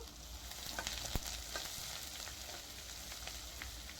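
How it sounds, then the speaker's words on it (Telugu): Green chillies and curry leaves fry in oil in a pan for egg fried rice, giving a steady close crackling sizzle with a few sharper pops and no talking. "ఇవి కొద్దిగా ఫ్రై అయిన తర్వాత ఇందులోనే చిన్న చిన్న ముక్కలుగా కట్ చేసుకున్న పచ్చిమిర్చిని వేసుకుందాం"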